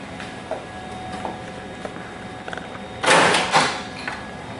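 A paper drawer on a photocopier slides and thumps once, loudly and close by, after a stretch of low room noise with faint clicks.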